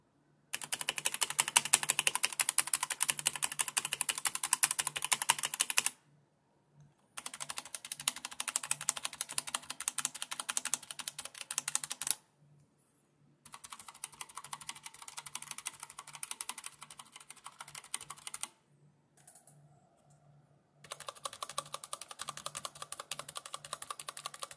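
Typing on a budget mechanical keyboard with modded switches, rapid clacky keystrokes in four separate bursts with short silent gaps between them, fairly close and clear.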